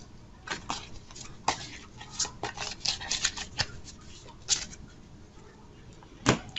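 Faction cards from the Twilight Inscription board game are shuffled nearby in uneven bursts of crisp papery riffling, closing with a single firm tap.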